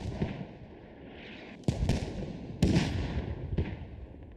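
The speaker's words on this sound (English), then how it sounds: "More rockets going off beneath the camera towards that BDRM2" Rockets exploding in the video game Squad during a competitive esports match, several sharp booming blasts at irregular intervals over a constant background rumble, each followed by a rolling decay.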